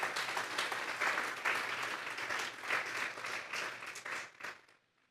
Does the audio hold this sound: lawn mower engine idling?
no